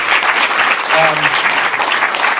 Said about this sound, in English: So give Jon a round of applause.